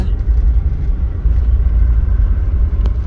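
A motorcycle goes by on a city street near a provincial capitol building, a loud, close, steady low engine rumble throughout with no speech.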